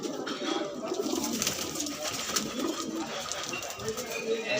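Pigeons coo in a flock at a pigeon sale in Trilokpuri, Delhi, including a female Punjabi pigeon, with a steady low cooing chorus under a dense background of rustling and birdcalls.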